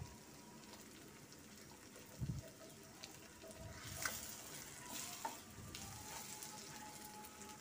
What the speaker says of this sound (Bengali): এবার মাঝখানে আমি 2টা ডিম দিয়ে দিব